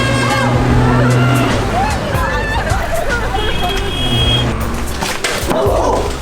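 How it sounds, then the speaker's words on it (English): Busy street traffic in Colombo, Sri Lanka: a loud, dense roar of engines and horns blended with crowd babble and people talking nearby. "Watch out for the traffic, kid."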